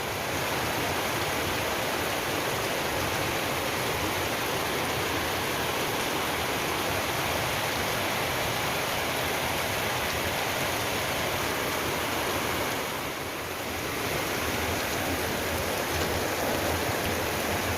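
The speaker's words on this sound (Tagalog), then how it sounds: "Ang lakas ng ulan." Heavy rain pours steadily and loudly without a break, a dense continuous hiss with a brief slight dip near the end, and no voices.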